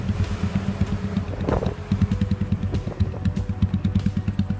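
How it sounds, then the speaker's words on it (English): A small Stallions Centaur 150 cafe racer motorcycle engine runs steadily close by, a low pulsing single-cylinder thrum with a brief throttle blip partway through, then settling back to a rhythmic idle. "It is based on the Stallions Centaur 150."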